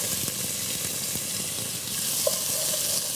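Pepper sizzles in a hot stew pot as it is stirred, a steady frying crackle with soft scraping and a faint watery clink near the end, close and continuous with no talk.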